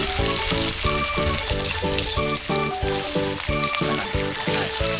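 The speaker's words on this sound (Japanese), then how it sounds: "焼き目をつけたいんでね、1枚ずつ焼いていきましょう" Thin pork slices for Japanese ginger pork sear over high heat in hot oil, laid into the pan one at a time, giving a loud, steady, close sizzle with crackling spits that runs throughout, no voices.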